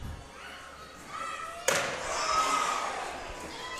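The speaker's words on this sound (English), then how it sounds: "And that steel chair right across the middle of the back. You could hear it." A steel chair cracks across a wrestler's back at an independent pro wrestling show, one sharp, loud slam cutting through crowd noise and commentary, followed by rising crowd reaction.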